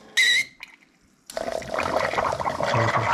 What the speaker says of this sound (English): Okay, and then it's pumping here, water inside.